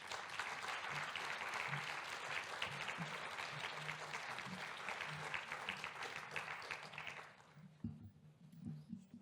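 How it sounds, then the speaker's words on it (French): Sustained audience applause at a conference panel discussion, steady and full for several seconds, then tapering off into a few scattered claps and French murmurs. "Gillette, Sophie Truchet et Sophie Beaupère, sous vos applaudissements, évidemment."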